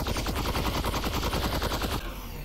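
Rapid automatic gunfire in the video game Half-Life: Alyx, a loud, steady string of close shots in quick rhythm that cuts off near the end, leaving a fading ring.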